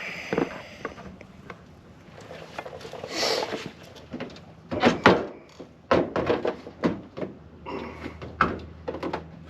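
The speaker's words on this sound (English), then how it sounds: "I'm gonna take my mallet again and attempt to pry this door open" Knocks from a mallet ring out as a Fox Body car door is pried open during a window motor job, a series of sharp metallic thumps in an irregular rhythm, close up over quiet garage background.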